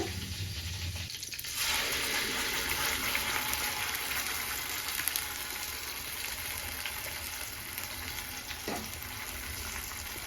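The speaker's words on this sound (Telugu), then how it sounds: "ఈ ప్యూరీని అయితే బాగా వాటర్ అన్ని ఇనికిపోయేదాకా బాగా వేయించుకోవాలన్నమాట" Tomato-style puree sizzles and bubbles steadily in a hot pan on a home stove as its water cooks off, a dense continuous frying hiss with a few soft stirring scrapes and no talking.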